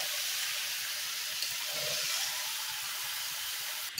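Spicy chicken frying in a pan gives off a steady, fairly faint hiss of sizzling, with soft irregular stirring movements underneath and a brief clatter near the end.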